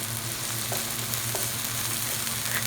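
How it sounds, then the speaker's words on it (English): Chopped carrot and onion fry in a pan for uttapam, a steady even sizzle that fills the whole stretch, with a couple of faint clicks of a utensil and no talking. "fry for a minute."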